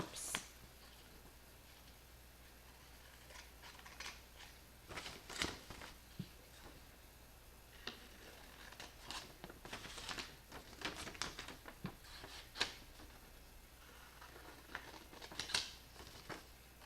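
Folded paper is snipped with scissors to make flaps for a triangle congruence lesson, a run of faint, scattered crisp cuts and rustles with quiet pauses between.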